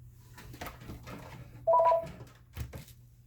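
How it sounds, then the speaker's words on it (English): A telephone lets out a single short electronic beep, clear and fairly close, against a quiet room with faint low background hum. "Thought I unplugged my phone."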